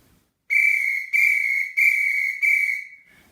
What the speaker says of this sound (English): The first thing you will hear are 4 blasts on the whistle.